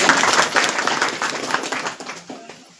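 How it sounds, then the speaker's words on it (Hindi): Audience at an open village council meeting in Binak claps in welcome, a dense, steady patter of many hands that slowly thins and fades toward the end. "वर्तमान प्रधान जी श्रीमती शोभा देवी जी का भी एक बार जोरदार तालियों से आप स्वागत करें।"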